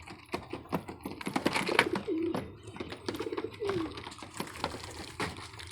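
Pigeons gathered around a coop and eager for feed, cooing in low, rolling calls twice amid a busy patter of pecking, wing flutters and small clicks, all heard up close.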